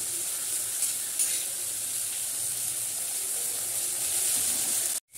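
Spice paste fries in oil with a steady, bright sizzle, close and continuous, with a faint stir partway through before cutting off abruptly at the end.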